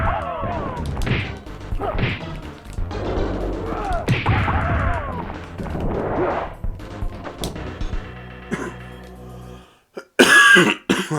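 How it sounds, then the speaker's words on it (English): Repeated harsh coughs mixed with heavy thuds and crashing impacts from Ultimate Mortal Kombat 3 on Super Nintendo, ending with a sudden loud burst. "Excuse the coughing."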